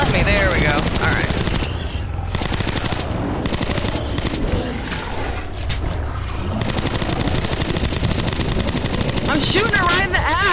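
Loud automatic gunfire in the shooter Metro Last Light, long rattling bursts of rapid shots with mechanical noise and occasional whirring sounds, continuous and close, with a voice talking over it.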